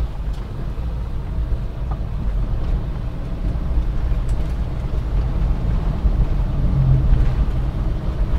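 Manual-transmission car climbing an uphill bend in third gear, its engine making a steady low drone with road and wind rumble that swells slightly toward the end, heard from inside the cabin with no talk.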